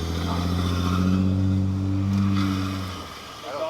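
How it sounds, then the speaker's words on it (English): A Lexus IS300 idles and revs steadily with a low, sustained engine drone, its e-brake dragging during a burnout, with the tone sagging near the end; no one speaks. "No, that's the e-brake dragging."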